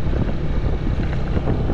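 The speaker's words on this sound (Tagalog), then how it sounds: "Magpapandar muna tayo ng makina" A boat engine starting on the water for a trip out to a farm, heard as a steady, loud low rumble with wind buffeting the microphone throughout and no talking.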